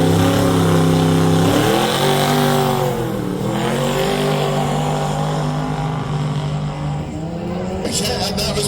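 Drag racing car accelerating hard down the strip at Manston in Kent, a loud sustained engine roar with rising and falling harmonics as it gears up, continuous throughout with some crowd or voice noise mixed in.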